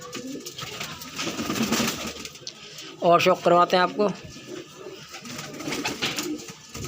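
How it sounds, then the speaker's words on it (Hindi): Pigeons at a pet bird shop in Trilokpuri coo in a burst of several throaty rhythmic notes near the middle, while someone talks before and after over faint background chatter. "ये देखिए भाई, ये लाल जीना कबूतरी है, देसी है ये"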